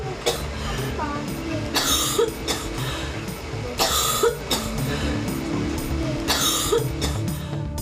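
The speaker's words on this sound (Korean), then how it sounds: "쉴 새 없이 기침을 쏟아냅니다." Someone with asthma coughs over and over during an asthma provocation test, in harsh, bursting fits, several loud spasms close up with short gasps and pauses between them.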